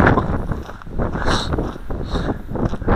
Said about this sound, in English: This wind's getting stronger and stronger as time goes on here.